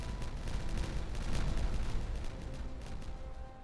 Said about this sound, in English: Set off some explosives.